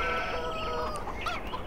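A few brief chicken clucks and squawks from the video game Farming Simulator 2015 sound close over a quiet background, lasting only a moment.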